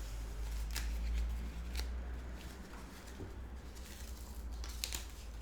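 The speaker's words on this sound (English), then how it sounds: "Tear the top, just pull on it, that's what tears it down" Athletic tape is torn in short, sharp rips while an ankle is being taped, a few quick tearing bursts spaced across a steady low room hum, with no talk.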